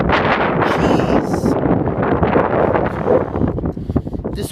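Powerful gusting wind during a tornado warning in Kansas buffets the microphone loudly and continuously in a rough roar, with a few brief bursts and no clear talking.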